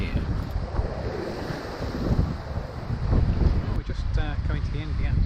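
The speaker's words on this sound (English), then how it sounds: "the wind's picking up" Strong wind at sea while sailing across the Atlantic, a steady broadband roar with wave wash and microphone buffeting throughout, loud and close, with faint voices at moments.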